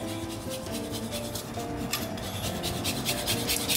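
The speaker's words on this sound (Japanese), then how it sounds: "レモンの皮ですね、おろし金がでもいいです" Lemon peel being grated on a metal grater while preparing a butter sauce, a steady close scratchy rasping with repeated strokes that brighten toward the end, over faint background hum.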